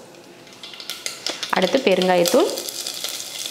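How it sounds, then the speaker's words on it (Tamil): Mustard seeds and spices crackle and sizzle in hot oil, tempering for rasam, a burst of frying rising partway through as someone speaks over it. "ரசம் தாளிக்கிறதுக்கு எண்ணெய் விட்டுக்கலாம்."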